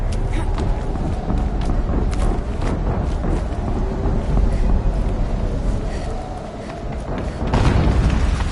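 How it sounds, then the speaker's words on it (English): An explosion in the video game Horizon Zero Dawn, set among snowy ruins, comes as a deep, continuous rumbling boom that swells again near the end, with wind-like roar throughout. "An explosion."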